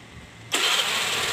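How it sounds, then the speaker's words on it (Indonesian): A Honda Vario Techno 125 scooter with a starter fault cranks briefly on the starter, then catches and runs with a sudden loud roar that settles into a steady idle. "motor bunyi ya, motor nyala"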